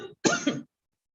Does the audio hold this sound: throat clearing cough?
yes